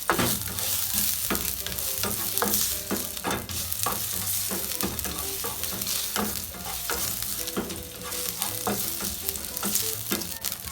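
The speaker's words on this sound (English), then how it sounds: "I'm going to be adding some fresh ginger pieces to this pan, and I'm just simply infusing the oil with some ginger" Fresh ginger pieces sizzle in hot grapeseed oil in a pan, a steady close crackling hiss dotted with sharp pops and occasional light clinks of stirring throughout.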